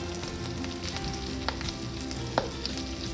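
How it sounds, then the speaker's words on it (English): Kale greens sizzling and frying in a pan with onions and garlic, a steady close hiss with a few soft clicks from stirring. "So we're gonna put our greens in because the greens don't take as long to cook as the onions and the garlic do"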